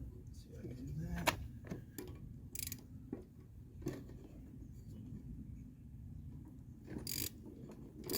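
Socket wrench ratcheting on the blade bolt of a Honda/Husqvarna lawn mower with a wood block wedged against the blade, giving faint scattered clicks and metallic knocks over a low rumbling background.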